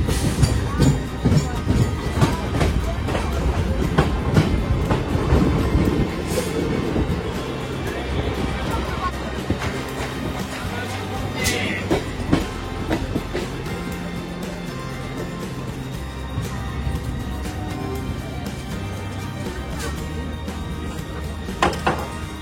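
Steady low rumble and rattling of a moving train from inside a carriage, on a journey from Duttapukur to Mayapur, with occasional thunks and faint voices.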